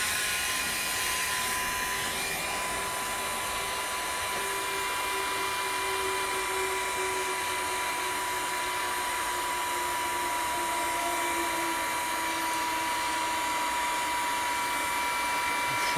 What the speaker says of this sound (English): Take a heat gun, or if you don't have a heat gun, you can use a lighter